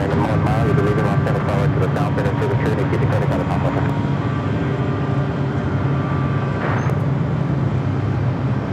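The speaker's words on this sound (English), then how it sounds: "Takeoff sounds for you here today." Jet airliner taking off at Los Angeles LAX airport, a steady loud roar of engines sustained throughout, with voices talking over it.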